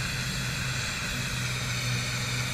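Steady, even drone of the Airbus A400M Atlas in the Roblox game Aeronautica, a constant engine hum that holds unbroken and fairly close for the whole stretch, with no voices over it.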